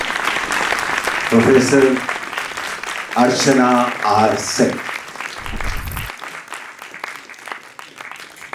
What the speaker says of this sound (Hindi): उनके लिए भी जोरदार तालियां बजा दीजिए